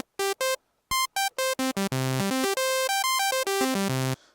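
Korg Minilogue XD synthesizer with a single VCO set to a saw wave: a handful of short, bright, buzzy stabs with gaps, then a denser run of sustained notes changing pitch until an abrupt stop.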